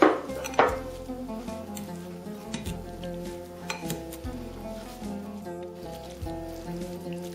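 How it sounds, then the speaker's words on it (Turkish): Grated radish being stirred into a tahini salad in a bowl, giving repeated soft clinks and scraping knocks of a utensil against the bowl, close up and steady, with no talking. "Ve son olarak rendelediğimiz turpları katıyoruz. Ve karıştırıyoruz."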